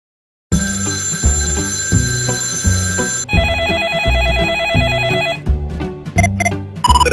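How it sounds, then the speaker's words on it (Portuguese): A telephone rings with bright, repeating electronic trill patterns that shift in pitch partway through, loud and close, continuing for several seconds with short breaks near the end and no talk. "É isso mesmo, o telefone!"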